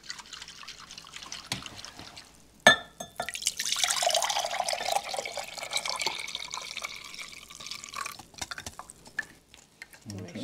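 Vinha d'alhos marinade, a Portuguese garlic-wine soak, is poured into a container, giving a steady liquid stream and trickle with a sharp clatter early on, close by and moderately loud, and faint voices in places.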